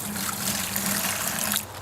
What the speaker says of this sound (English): put a bit of water in the bucket first